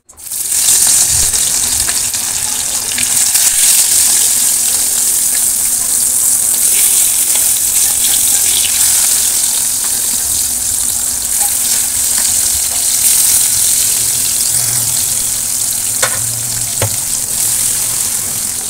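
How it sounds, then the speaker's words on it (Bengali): Fish frying in a pan gives a loud, steady, close hiss and sizzle with no break, and faint clinks now and then, with no voices. "দেখো মাছগুলো ভাজতে দিয়ে দিয়েছি"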